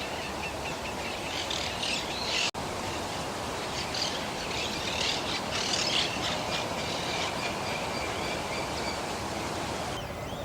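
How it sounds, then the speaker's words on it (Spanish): Parakeets squawking in parkland beside a lagoon, repeated harsh chattering calls at moderate distance over a steady broadband background hiss and rumble. "En las zonas parquizadas del otro lado del camino andan cotorras, que bajan a comer los brotes del césped."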